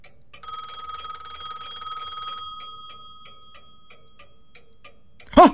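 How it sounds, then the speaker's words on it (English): An old-style telephone bell ringing inside a railway signal box around midnight, a sustained metallic trill over a steady ticking clock, then the ticking continues alone before a louder thump at the end. "the phone in his box rang."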